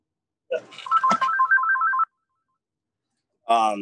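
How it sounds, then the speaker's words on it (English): A phone ringtone trills in a quick warbling pattern for about a second and a half, loud and close, then stops before a voice speaks. "excuse the phone too. Let me turn it off."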